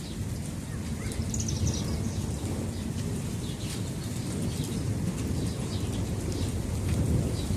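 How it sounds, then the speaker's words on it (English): Rain falls steadily during a thunderstorm under a flood warning, a continuous hiss with a low rumbling undertone, while faint bird chirps come through in the background. "the rain's starting to slow down a little bit"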